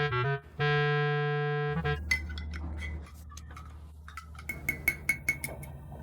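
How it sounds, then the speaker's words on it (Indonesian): Metal spoon clinks against a glass while coffee is spooned in, several scattered light taps following a brief steady electronic tone at the start. "sekarang tuangkan kopi 1 sendok dan cicipi"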